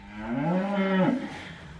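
A cow in or beside a minivan gives one long, loud, close moo that holds steady and then drops off at the end, over a low background rumble, with no talk.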